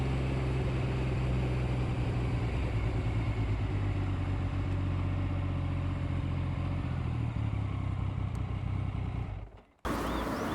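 A Triumph Daytona 900 triple motorcycle engine runs in a steady, continuous drone while riding, holding a fairly even pitch before cutting off abruptly near the end, with no voices over it.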